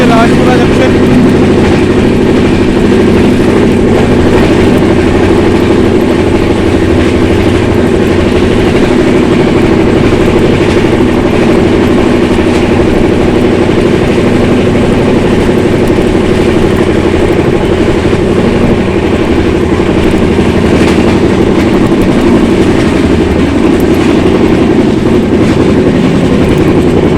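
Uttar Sampark Kranti express train running at speed, a loud constant rumble and rattle of rail wheels heard from on board, with a steady roar throughout.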